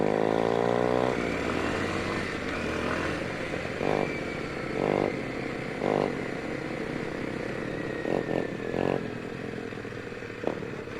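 An Apollo RFZ 110 dirt bike engine with a swapped-in PZ19 carburetor runs steadily nearby, its droning hum rising in pitch with occasional revs and short bursts of clatter.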